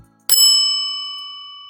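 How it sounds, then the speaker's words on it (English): A single bright bell ding rings out clearly and decays slowly, leaving a sustained ringing tone; close and alone. "Bell."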